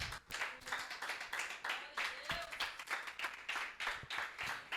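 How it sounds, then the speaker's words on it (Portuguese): A church congregation applauding, steady rhythmic clapping from many hands at moderate distance, with a few voices mixed in. "Pode aplaudir."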